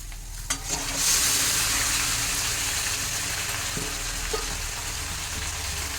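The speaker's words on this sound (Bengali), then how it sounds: "এবার আমি এর মধ্যে এই যে ম্যারিনেট করা মাংস পুরোটাই দিয়ে দিচ্ছি" Marinated chicken dropped into a pan of frying onions bursts into a loud, steady hiss of sizzling oil that holds through the clip, close by, with a few faint utensil knocks and no speech.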